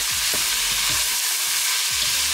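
Chopped onions and a bouquet garni fry in a hot pan with a constant close sizzle, while a spoon stirs and scrapes the pan in several short strokes.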